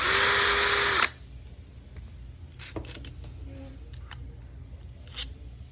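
Screws come out of a pressure switch housing: a loud power-driver whir for about a second, then faint clicks and handling noises.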